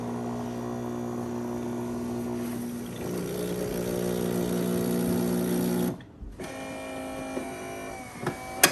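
A Miele CM6150 coffee machine preheating and rinsing, a steady mechanical pump hum with tonal whine for about six seconds, a brief stop, then a resumed hum with small clicks and knocks.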